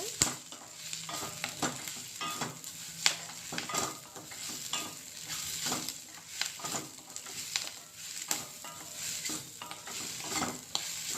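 Drumstick leaves fry on a low flame in a pan for a Telugu dal, a steady soft sizzle punctuated by frequent clinks and scrapes of a spoon stirring them, close by with no talking.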